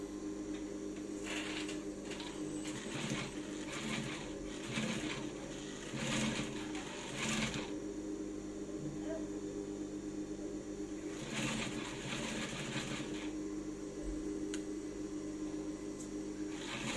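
A sewing machine stitches through the smooth section of resin boning on a corset, a steady close mechanical whir with several louder bursts of running, no voices.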